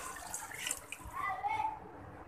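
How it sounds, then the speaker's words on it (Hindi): Water is poured from a glass into rice in a cooking pot for white chana pulao, a soft splashing gush that rises and fades over about two seconds, fairly faint and close. "ये देखें मैं इसमें पानी ऐड कर रही"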